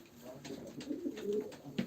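Pigeons cooing at a live pigeon auction, soft repeated low coos near and faint, with scattered background noise.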